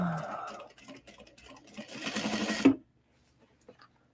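Sewing machine stitching a seam on a Glenda clutch made from obi and kimono fabric, a close mechanical whir in bursts that speeds up and then stops abruptly, followed by near silence with a faint click.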